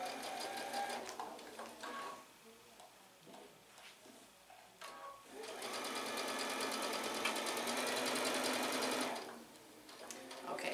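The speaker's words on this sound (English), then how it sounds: "I will be sewing from the outside in down to the seam allowance, but not through it, and back stitching" Sewing machine stitching a quilt block seam with back stitching, bursts of rapid mechanical whirring, a short run first and then a longer steady run, with a person speaking in between.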